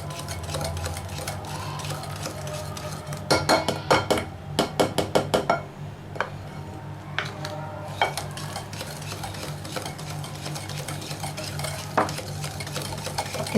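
Dough ingredients being mixed by hand with melted ghee or butter in a bowl, bursts of rapid clicking and tapping stirring strokes over a low steady hum, close and fairly quiet, no speech.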